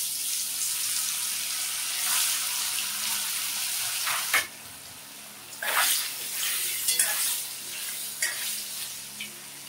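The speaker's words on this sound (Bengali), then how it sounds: "পনির ভাজা হয়ে গেছে" Paneer pieces frying in oil in a pan for a cauliflower and potato curry, a loud continuous hissing sizzle that eases midway, then flares again with a few stirring bursts.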